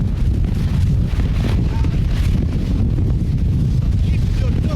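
Strong, cold wind blasts across a snowy ski slope at a snowboarding school in South Korea, a loud, steady roar buffeting the microphone throughout, with a voice faintly audible beneath it.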